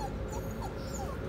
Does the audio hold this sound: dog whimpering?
yes